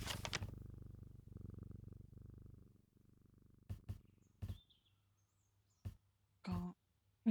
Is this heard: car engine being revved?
no